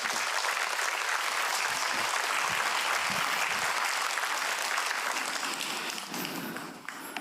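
A church congregation breaks into sustained, loud applause welcoming a pastor to the pulpit, an even roar of many hands that thins out toward the end.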